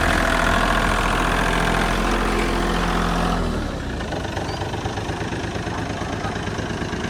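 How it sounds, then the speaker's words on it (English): A loud diesel excavator engine rumbles steadily nearby, its tone dropping partway through as the revs ease to a rougher idle. "Excuse the loud diesel engine on the excavator."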